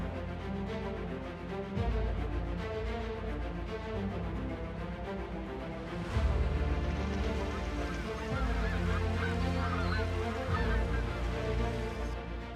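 Geese and other migratory waterbirds at Korgalzhin Lake, a Kazakh nature reserve, honk steadily as a dense, layered flock chorus that rises and falls without pause.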